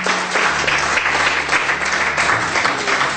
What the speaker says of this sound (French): Applaudissons un peu, Jéhovah.